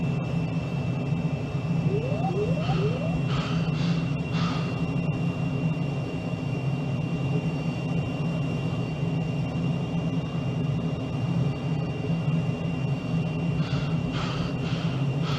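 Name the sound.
F-35B jet fighter afterburner pass in Microsoft Flight Simulator 2020 video game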